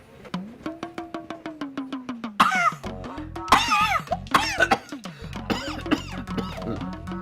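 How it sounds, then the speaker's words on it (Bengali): A man coughs repeatedly in rapid bursts indoors, the harsh spasms coming in several close clusters. "স্যার বারবার কাশতেছেন পানি নিয়ে আসি"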